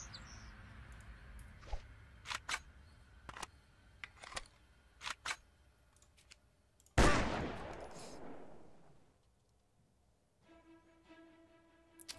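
A sniper rifle in a Unity3D video game fires with a string of sharp, separate shots, then one loud blast that decays slowly before a quiet tail, all fairly faint overall.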